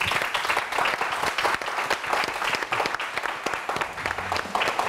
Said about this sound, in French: Et on va applaudir public.